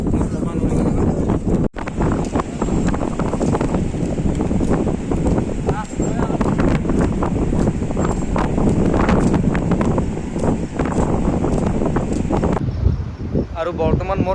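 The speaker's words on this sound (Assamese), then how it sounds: "বিৰাট ধুনীয়া বতাহ দেই, একদম উৰি লৈ যাব তাৰমানে সেই বতাহ আহিছে।" Strong wind gusting at Digha beach, a loud continuous roar buffeting the microphone for the whole stretch, with faint rustling underneath.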